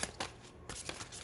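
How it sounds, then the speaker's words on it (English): Tarot cards are shuffled by hand in a few quick, papery riffling bursts, soft and close with short pauses between. "I'm gonna shuffle like this."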